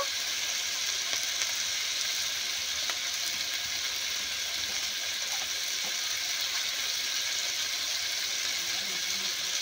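Chopped tomatoes hitting hot oil in a pan while cooking a vegetarian ridge gourd dish, giving a steady hissing sizzle with faint crackles and occasional small clicks, continuous and close.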